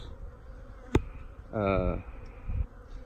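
Honey bees buzz around an open hive during a split, a close pitched drone swelling for about half a second amid a sharp click and soft handling noises.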